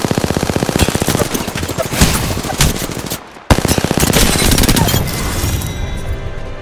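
Rapid automatic gunfire in the Apex Legends video game, loud and sustained bursts of shots with a brief pause midway before firing resumes.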